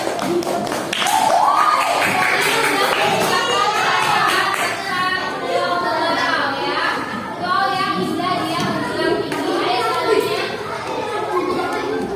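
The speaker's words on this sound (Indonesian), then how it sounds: "Boleh tepuk tangan temannya." Children in a classroom clapping for their classmates, a lively burst of applause mixed with excited kids' voices and chatter throughout.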